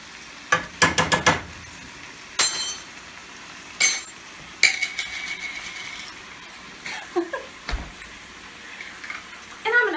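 Garlic frying in a pan, a faint background sizzle punctuated by clinks and scrapes of a utensil against the pan, close and intermittent.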